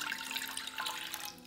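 Water pours into a saucepan on the stove, a soft, continuous splashing trickle, fairly quiet and close, with no voices.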